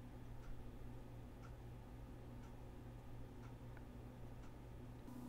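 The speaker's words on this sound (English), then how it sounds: "I also have a clock ticking in the background" Faint clock ticking in the background of a quiet room with an air conditioner running, soft ticks recurring about once per second over a steady low hum.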